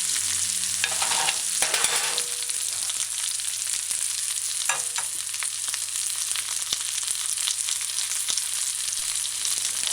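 A fish fillet and onion fry in a pan with a steady, dense sizzle throughout, punctuated by occasional scraping and stirring clatter from a utensil, close and fairly loud, with no talking.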